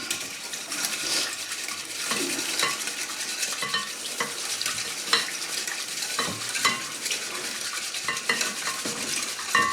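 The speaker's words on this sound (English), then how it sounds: "Right now is a case of whisking it all up." Honey jerky marinade whisked in a bowl, giving soft rapid scraping with scattered light metallic clinks and taps, close and fairly quiet, with no talking.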